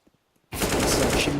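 Sustained automatic gunfire in the Counter-Strike video game erupts after a near-silent half second, loud and continuous with dense rapid shots to the end.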